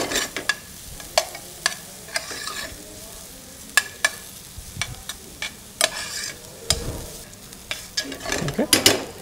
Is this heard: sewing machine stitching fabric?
no